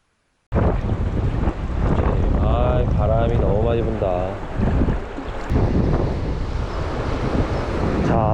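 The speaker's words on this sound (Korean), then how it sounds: "바람도 좀 너무 많이 불고 있고요" Strong wind buffeting the microphone at a riverside fishing spot in northern Gangwon, a loud, steady roar that runs almost the whole clip with gusty swells, while a person talks over it.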